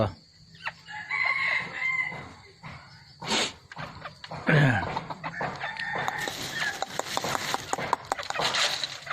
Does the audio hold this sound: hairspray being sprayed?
no